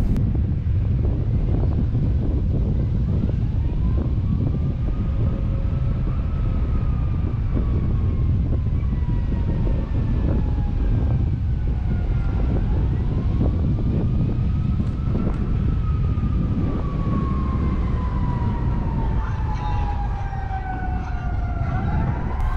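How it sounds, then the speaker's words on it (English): A siren wails from a residential backyard in a Scarborough, Ontario public housing neighbourhood, rising and falling tones heard at a distance under steady road and wind noise from a moving car. "That siren is actually coming from someone's backyard. It's not an actual fire truck."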